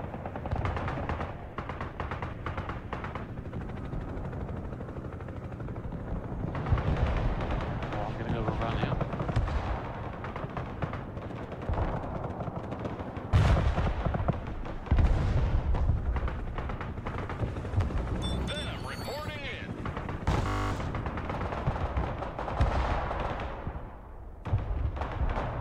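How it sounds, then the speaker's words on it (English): Mobile artillery in the strategy video game Broken Arrow fires in a dense battle soundscape, with repeated booming shots and crackling bursts layered over continuous combat noise, while a player talks throughout. "Mobile artillery ready. Send mission. Target marked. Direct fire."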